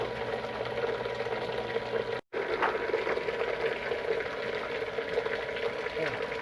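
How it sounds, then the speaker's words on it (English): A blender mixes calf milk replacer with a steady churning, whirring hum. It cuts out for a moment and then runs on evenly. "we're at the end of our stirring process, so we're going to go ahead and shut the blender off"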